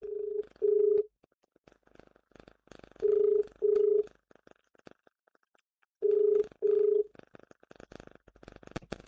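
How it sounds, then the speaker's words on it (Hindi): Telephone line tones play while a news call connects, three pairs of steady beeps spaced a few seconds apart, with faint clicks and line noise between them and no talk. "फोन लाइन पर हम कनेक्ट करते हैं"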